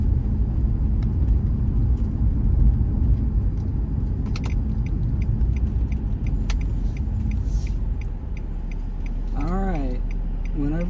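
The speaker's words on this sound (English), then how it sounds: "I'm going for the first drive in the new tires." A car rolls along a road on newly fitted rear tires, giving a steady low rumble of road and engine noise throughout, with a faint rattle of keys and a voice speaking briefly near the end.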